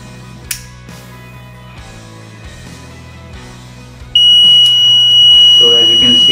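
A gas and fire detection system with GSM alert sounds its fire alarm buzzer partway through, a loud steady high tone that starts abruptly and holds to the end, following quieter room noise with faint background sound.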